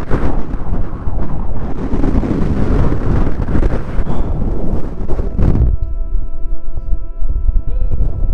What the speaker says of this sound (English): It's so windy up here